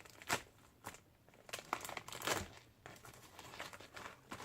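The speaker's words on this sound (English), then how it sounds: "I haven't opened it yet, so let's open it" Plastic packaging of an Ipsy Glam bag crinkles and tears open in bursts of rustling, close and quiet, with short pauses between handling sounds.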